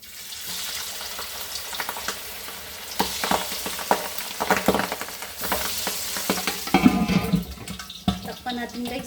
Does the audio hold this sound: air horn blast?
no